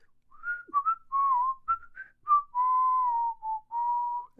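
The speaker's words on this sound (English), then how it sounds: "Yeah, I'm really good at whistling." A person whistles a short tune alone, several clear notes in a row ending with longer held tones, close and quiet.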